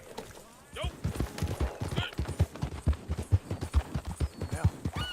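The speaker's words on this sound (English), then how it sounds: "Come on, get on the horse." Horse hooves clip-clop in a western video game, a steady near, rhythmic clatter of hoofbeats on hard ground with a brief whinny-like call, while someone speaks over parts of it.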